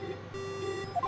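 A cell phone in the Phoenix Wright video game gives a faint electronic beep: one sustained flat tone, then a few short stepped bleeps rising at the end.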